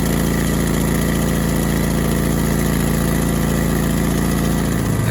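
Toro STX26 Intelli-Sweep stump grinder engine running steadily at close range, a loud continuous drone with a constant low hum that drops off slightly near the end, no voices.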